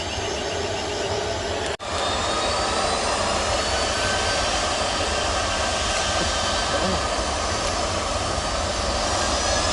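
Loud, steady broadband roar of an airplane jet engine at an airport, continuous and close throughout with one brief dropout, no talk.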